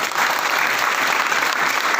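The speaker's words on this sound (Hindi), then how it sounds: "सबसे पहले एक जोरदार ताली होनी चाहिए।" A seminar audience at Kumar Bhaskar Natya Mandir breaks into loud, dense applause, many hands clapping steadily and close together without a break.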